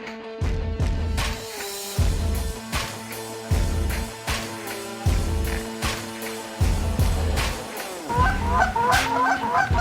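Geese honk repeatedly and loudly in a cold deep-freeze setting where ducks and geese gather, a close chorus of harsh, overlapping calls arriving in rhythmic bursts roughly every second, without speech.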